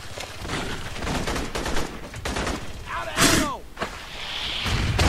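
Gunfire in the sci-fi shooter Aliens: Colonial Marines, with rapid automatic bursts and sharp shots rattling in quick succession over a busy game soundscape, plus a brief whooshing effect midway.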